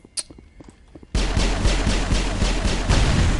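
A Mass Effect explosion on a moon level erupts suddenly after a quiet stretch of faint clicks, then becomes a loud, dense, sustained roar with a deep rumble.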